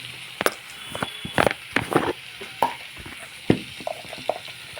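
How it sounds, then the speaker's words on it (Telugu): Shyama dumplings being fried and stirred in a pan for a curry, with scattered clacks of a spoon scraping the pan over a soft steady sizzle. "ఇవి వేసేసుకుని ఇలాగ ఒక 2 నిమిషాలు ఇలా వేపుకొని ఇందులోనే"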